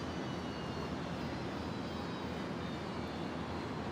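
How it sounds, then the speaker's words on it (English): A Qantas Link Dash 8 turboprop arriving at Brisbane airport makes a continuous, even engine drone heard at some distance, broadband and steady throughout, with no voices. "Here we go, Qantas Link 2363 in from Wagga Wagga, the Dash 8."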